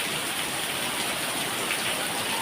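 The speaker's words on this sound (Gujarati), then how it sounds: "મહેસાણામાં વરસાદની મોજા મૂકીને વરસી રહ્યો છે" Heavy rain pours down steadily in Mehsana, Gujarat, a dense, continuous broadband wash close by with no voices over it.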